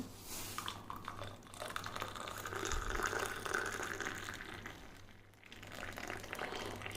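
Hot, just-boiled milk poured from a height into a cup to make instant coffee, a continuous splashing liquid stream that swells in the middle, close and steady with no talking.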